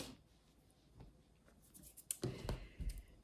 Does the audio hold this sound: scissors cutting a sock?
yes